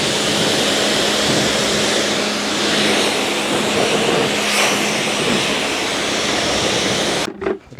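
Cheap budget pressure washer rinsing, a loud, steady broadband hiss of high-pressure spray with a constant motor hum underneath, close and continuous before cutting off abruptly at the end.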